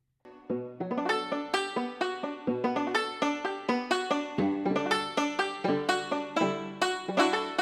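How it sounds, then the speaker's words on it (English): A plucky synthesized banjo patch plays a bouncy melody of quick, bright picked notes that decay fast, steady and close, with no voices. "Right, it sounds like a banjo."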